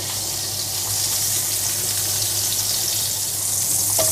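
About a tablespoon of margarine melts and sizzles in a frying pan, a steady close crackling hiss that holds evenly throughout.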